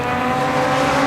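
Race cars from the 750 Motor Club battling for second through fourth place sweep through the Craner Curves at Donington Park, producing a steady, loud engine roar with sustained harmonic tones that hold throughout.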